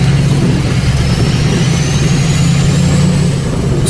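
A GMC Sierra pickup truck driving while stuck in second gear with its transmission failing to upshift, the engine holding a loud, constant high drone and a faint whine rising slowly through the cabin.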